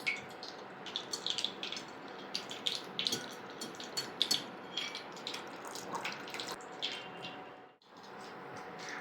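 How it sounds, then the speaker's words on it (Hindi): Boiled macaroni being drained, water pouring and splashing steadily out of a pot for several seconds, close and fairly loud with small drips and clinks, briefly pausing near the end. "अब यहाँ से मैक्रोनी निकालेंगे, अच्छे से पानी निकाल देंगे"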